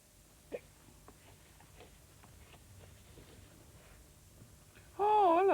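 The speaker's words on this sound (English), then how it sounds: "we still haven't cured my hiccups yet" A person hiccups once early on, a short sharp catch in a quiet room, followed by muffled background sounds until a loud warbling electronic tone abruptly fills the end.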